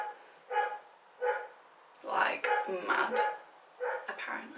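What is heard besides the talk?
dog barking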